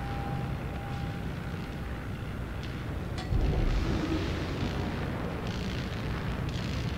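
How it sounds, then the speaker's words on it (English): A celebratory horn blast in the World of Warships naval battle game during a Halloween 2018 event, a low sustained blare swelling midway through over a steady rumbling game background. "Yeah, celebratory horn blast."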